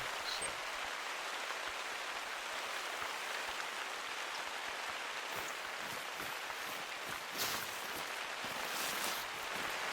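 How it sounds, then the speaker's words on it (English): Steady, dense hiss of heavy rain falling across an outdoor hunting landscape in The Hunter: Call of the Wild, a broad continuous wash with scattered brighter drops and soft low rumbles, no voices. "That is some serious rain."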